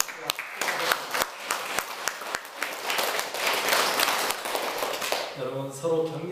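A church congregation applauds the parents, with scattered individual claps at the start swelling into a fuller round of clapping, then fading as a voice begins speaking near the end.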